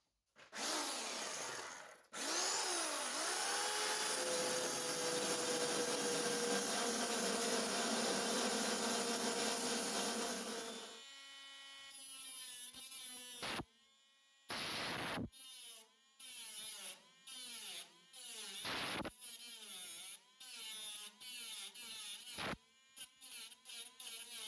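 Angle grinder tidying the edge of a replacement rear arch panel on a 1974 MK3 Classic Mini, a loud steady broadband grinding whine for about ten seconds, then a series of short stop-start bursts with rising and falling pitch.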